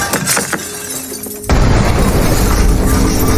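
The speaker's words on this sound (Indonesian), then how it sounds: "dan Ramon pun pergi ke properti milik Ramon, namun tidak lama sebuah ledakan terjadi di gedung itu." An explosion inside a building as a film sound effect: an abrupt blast cuts in midway, followed by a loud, dense rumbling wash of debris and noise that holds at full strength to the end.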